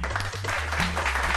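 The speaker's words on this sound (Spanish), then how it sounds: "el aplauso." A studio audience on a Spanish-language TV program claps steadily in a brief, moderately loud burst of applause with a faint voice underneath.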